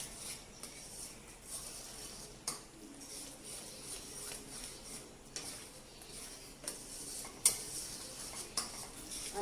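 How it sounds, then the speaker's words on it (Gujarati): A spoon stirs a coconut Mysore pak mixture in a pan over a low gas flame, repeated scraping and clinking strokes against the metal, faint and fairly regular. "હવે ધીરે ગેસે આને આપણે ચલાવવાનું છે."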